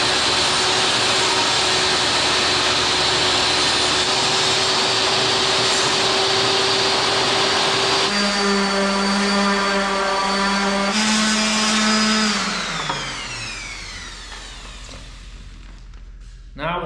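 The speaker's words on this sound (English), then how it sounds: "a free-handed cut on a table saw" A table saw runs at full speed through a freehand cut on trim, a loud steady whine whose pitch shifts under load, then the blade spins down in a falling tone near the end.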